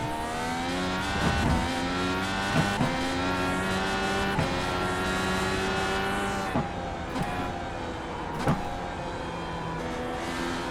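An Indycar race car engine from the iRacing game at Sonoma screams at high revs, pitch climbing and dropping through repeated gear shifts with sharp bumps from curbs, loud and continuous, with no talk.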